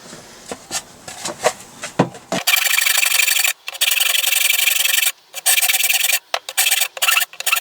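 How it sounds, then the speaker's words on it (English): Hand file rasping across metal on a 1983 Yamaha RS125 DX motorcycle part, a few light strokes first, then long loud sustained strokes broken by short pauses, close up with no talking. "Now, I'm not going to use the grinder for this, I'm just going to use a file."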